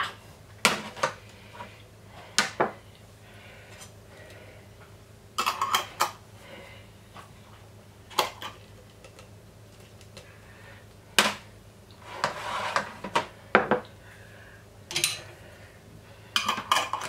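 Small glass jars and their lids being handled in a kitchen while preparing a raspberry and lime cheesecake, with scattered sharp clinks and clatters at irregular intervals, some in quick clusters, close up and without talk.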